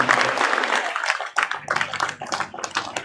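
Applause from a conference audience after a speech on political communication, a scattered round of clapping that thins out and then briefly picks up again, fairly close.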